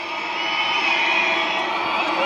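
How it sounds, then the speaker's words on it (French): A wrestling crowd at the CWF Summer of Destruction 2018 event roars and cheers in a steady, loud, dense wash of shouting voices for the whole stretch, with no single voice standing out. "La foule en délire."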